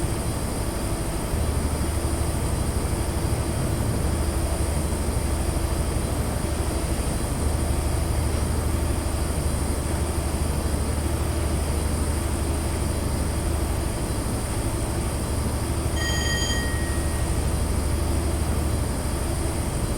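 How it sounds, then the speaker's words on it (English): From the cab of an HST in a train simulator, a loud steady diesel drone fills the space as the engine behind the cab keeps accelerating, with a short high whine near the end. "Certainly sounds loud in the cab as well, or because the engine's sort of directly behind us."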